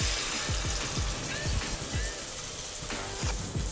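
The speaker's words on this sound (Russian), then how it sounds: "Теперь нам осталось обжарить куриное филе." Chicken fillet sizzles in hot oil in a frying pan, a dense steady crackle with rhythmic soft knocks, close and fairly loud throughout.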